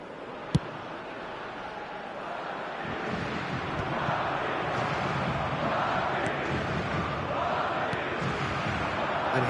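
A stadium crowd in the eFootball video game cheers as a broad, rushing roar that swells a little after a sharp thump near the start and then holds steady.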